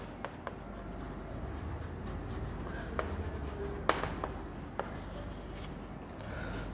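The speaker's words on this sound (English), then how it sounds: "So first I am writing some examples." Pen or marker writing examples by hand, a continuous soft scratching and rubbing stroke sound with occasional small taps, close and fairly quiet, with no talking.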